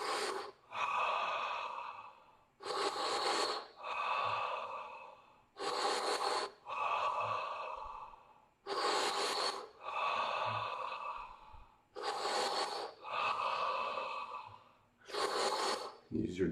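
Breath of fire yoga breathing, rapid forceful nasal exhales driven by the diaphragm, repeated in close, loud bursts of a second or two separated by short pauses across the whole stretch.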